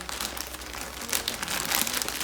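Plastic packaging from a SHEIN clothing order being handled and opened, giving a steady, close crinkling and rustling that grows a bit louder toward the end, with no talking.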